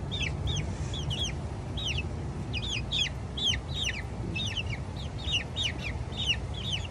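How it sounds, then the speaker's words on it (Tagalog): Several chickens cluck and call repeatedly over a low, steady background rumble, with no talking. "Bagong ligo ang mga manok ni Inday Runing, oh."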